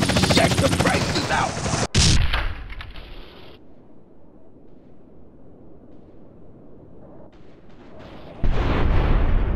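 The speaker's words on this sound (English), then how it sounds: "Time to shoot the cops on a drive around the city until our AK jams" Automatic AK gunfire in GTA: San Andreas, shooting at police from a moving car in the city: a dense, loud burst of rapid shots, a lull with engine rumble, then another loud burst near the end.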